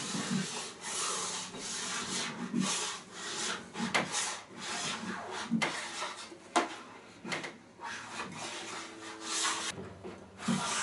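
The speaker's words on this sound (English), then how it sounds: "Just try to scrape off all the wax. Just quick strokes, scraping it all off." A scraper drags wax off a snowboard base in quick, repeated rasping strokes, close and steady, the scraping continuous with brief harder knocks and no talking.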